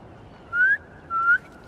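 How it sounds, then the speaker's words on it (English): In Marvel's Spider-Man 2, two short rising whistles ring out clearly, the second following the first after a brief pause, over a quiet background. "Try a whistle."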